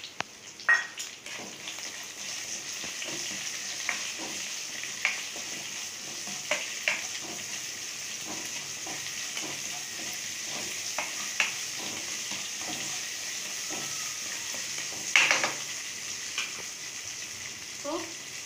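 Chana dal and onions sizzle in oil in a pan as aval upma is made, with a steady, moderate fry hiss and scattered ladle taps and clatters throughout.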